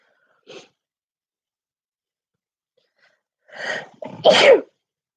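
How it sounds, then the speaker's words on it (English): A faint sharp intake early on, then a quiet pause before a building inhale and a loud, close sneeze. "gonna sneeze in a minute."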